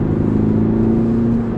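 An Audi A6 TDI Biturbo 326 CV Competition diesel engine revs with a steady, loud, deep drone and a strong low hum, with no talk over it.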